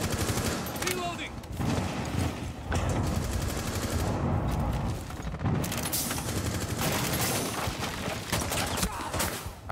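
Rapid bursts of automatic gunfire and single shots in a competitive online shooter match, loud and close, with a player talking intermittently over the shooting.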